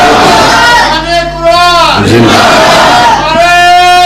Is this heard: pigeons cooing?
no